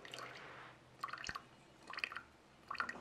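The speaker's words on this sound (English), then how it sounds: "Dripping everywhere, isn't it?" Liquid drips in a home kitchen, with three clustered bursts of wet, splashy drops separated by short quiet gaps.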